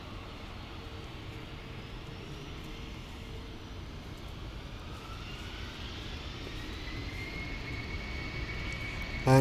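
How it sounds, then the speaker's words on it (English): A Finnair jet airliner departing Manchester for Helsinki, a steady jet engine roar with a faint rising whine, growing gradually louder toward the end without any talk. "And here goes our Finnair to Helsinki."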